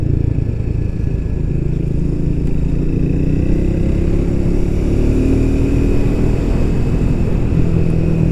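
Royal Enfield 350 motorcycle ridden through a set of bends, its engine a steady, loud, continuous drone with slight shifts in pitch and no talk over it.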